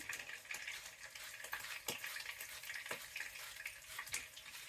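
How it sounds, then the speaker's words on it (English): Whole milk being whisked for a breakfast casserole, faint quick scraping strokes in an irregular rhythm against a bowl, with a soft wash of background noise and no talk. "So give that a whisk"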